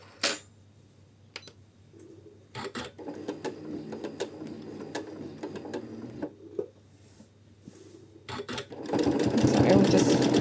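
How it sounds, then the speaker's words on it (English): Sewing machine quilting a swirl in a feather design, a steady mechanical needle hum broken by short pauses and clicks, building to fast, loud continuous stitching at the end; a voice talks over it. "I will just quilt the swirl to keep it shorter."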